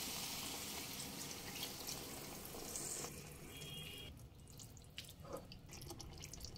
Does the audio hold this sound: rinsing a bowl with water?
yes